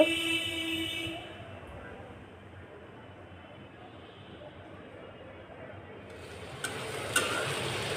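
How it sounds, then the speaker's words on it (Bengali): Okra (ladies' finger) sizzles as it is stir-fried in a pan with green chillies, a soft continuous hiss that dips quieter midway before a couple of sharp clinks and louder stirring near the end. "ঢেঁড়সটাকে আমি এখন নেড়ে চেড়ে ভাজি করে নেব"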